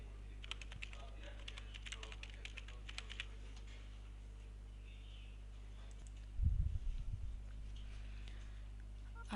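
Someone types an email ID and password on a computer keyboard, a quick run of light, close key clicks, followed by a brief louder clatter partway through.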